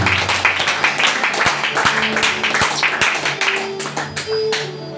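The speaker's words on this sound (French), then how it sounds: "On acclame le Seigneur pour cela." A church congregation claps and applauds in praise, a dense, steady wash of hands close by, with voices mixed in.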